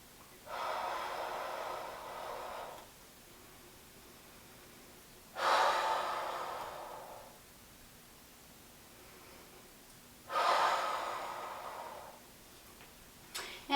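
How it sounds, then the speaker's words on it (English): Three slow, deep breaths during a standing yoga flow, each a soft airy rush lasting a couple of seconds, separated by quiet pauses, close and clear with no talking. "Let's take 2 more breaths here."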